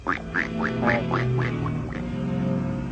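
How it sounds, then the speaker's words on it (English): A duck quacks in a steady run of about six clear quacks, close and fairly loud, over a low sustained background tone. "Quack."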